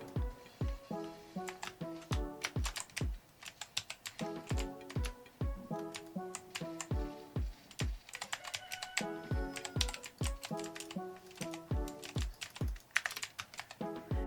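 Steady typing on an Aula S2022 mechanical keyboard, crisp clacky keystrokes in quick bursts with brief pauses, close and clear with no voices.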